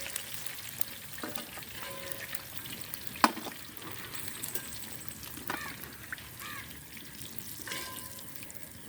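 Chicken sizzles in hot oil in a pan for a grandmother's coconut-milk chicken roast, with a steady frying hiss and occasional scrapes and clinks of a spoon stirring, close and continuous.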